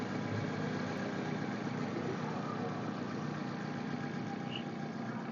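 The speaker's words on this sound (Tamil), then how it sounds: "பெட்ரோல் வண்டியோட இன்ஜின் சவுண்டு உங்களுக்கு நல்லா தெரியும்" A petrol Hyundai i10 engine idles steadily at a low, even hum, close and constant for a few seconds with no voices.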